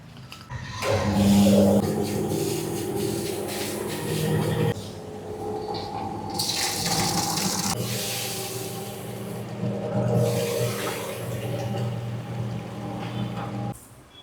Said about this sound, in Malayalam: നമ്മൾ ഇതിലേക്ക് വെള്ളം ആഡ് ചെയ്തിട്ട് ഈ എക്യുപ്മെൻറ്റിൻ്റെ റൊട്ടേഷൻ സ്റ്റാർട്ട് ചെയ്യും